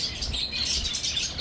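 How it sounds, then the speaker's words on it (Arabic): Caged doves and other birds chirp and tweet steadily at a busy outdoor animal and bird market by the Diyala bridge in Baghdad, with a constant low rumble of crowd and traffic underneath. "وعنده حمام قمري امايات اللي يدور حمام قمري حمام الكريم"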